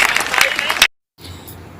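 Applause from an audience at a general-knowledge competition, a dense burst of clapping cut off by a short gap, then fainter clapping resuming.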